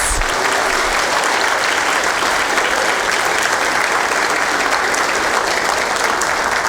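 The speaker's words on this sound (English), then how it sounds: "Let's give another round of applause to all our graduates." An audience at an employee recognition event applauds its graduates, a loud, dense and steady round of clapping filling the room without a break and with no voices over it.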